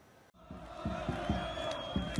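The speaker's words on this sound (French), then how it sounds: "Une foule importante massée devant la grande poste d'Alger" A large crowd of protesters gathered in Algiers swells after a brief cut into a dense, distant roar, with rhythmic chanting pulses and scattered shouts.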